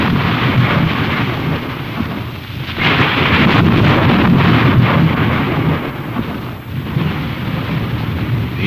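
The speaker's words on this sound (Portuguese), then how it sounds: "e logo se fizeram trovões, e estrondos, e relâmpagos" Rolling thunder sound effect: a deep, loud, continuous rumble that swells in the middle and then eases, with crackling bursts and no voices.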